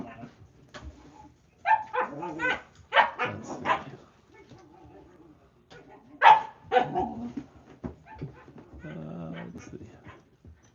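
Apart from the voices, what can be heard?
puppies barking and whimpering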